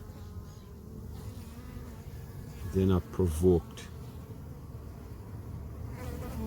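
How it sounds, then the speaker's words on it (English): Honey bees buzz steadily around ripe breadfruit as they collect nectar. The droning hum carries throughout, close and fairly soft, and a voice briefly speaks over it midway. "You look how close I am to these bees."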